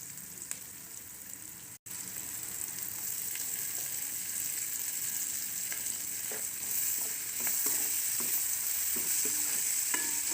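Asafoetida, coriander and fenugreek leaves frying in oil for a fish gravy, giving a steady close sizzle with stirring scrapes throughout, broken by one brief drop-out near the start.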